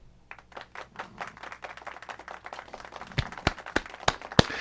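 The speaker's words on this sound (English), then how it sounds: "And y'all deserve a round of applause." A round of applause from a community gathering, scattered moderately close claps that start light and grow sharper and louder toward the end, with no talking over them.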